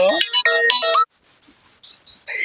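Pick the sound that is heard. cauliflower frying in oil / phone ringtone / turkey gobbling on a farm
phone ringtone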